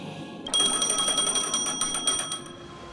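An in-game phone rings in Honkai: Star Rail, a bright trilling electronic bell that starts abruptly and rings steadily for about two seconds, loud and close, with no talk over it.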